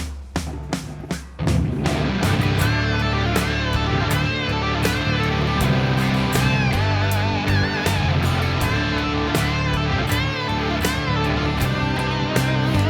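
A high-gain distorted electric guitar plays a blues riff loud and continuous after a few sparse picked notes, with sustained chords and bending lead phrases, no talking.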